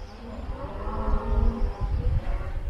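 A cow lets out a long, low moo close by at a campground among cattle, with a rumbling, noisy background.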